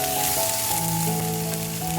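Vegetables added to a hot frying pan set off a loud, steady, close sizzle that hisses evenly throughout.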